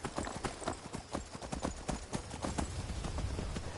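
Horse hooves gallop in a fast, steady clip-clop rhythm in the Skyrim video game, the beats close and loud throughout with no talk over them.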